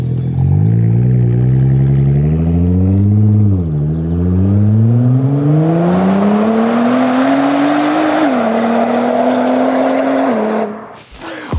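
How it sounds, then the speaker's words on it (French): A V6 car engine on the Nürburgring revs loud and close, rising through the gears in repeated climbing sweeps with brief drops at each shift, then cutting off abruptly near the end. "Oh le bruit du V6 mec"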